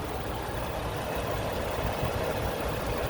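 A 2020 Ford F-150 Lariat with an EcoBoost engine idles smoothly, giving a steady, even low rumble with no variation across the short stretch, heard alone without talk.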